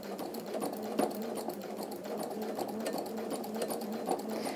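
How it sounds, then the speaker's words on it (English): Sewing machine stitching fused fabric strips down onto a quilted piece, giving a steady, continuous whirring needle rhythm held at an even level throughout, up close and with no talking. "So we're actually sewing them down."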